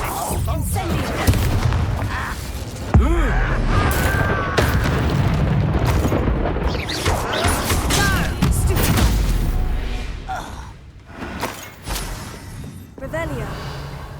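A fire spell cast in the Hogwarts Legacy game bursts out with a booming blast, over dense, continuous game effects and combat noise. Voices speak throughout.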